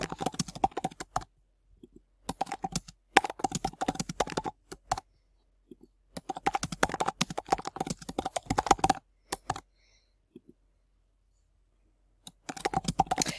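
Keys clatter in quick bursts of typing on a computer keyboard, close and fairly loud, broken by short pauses of silence between runs.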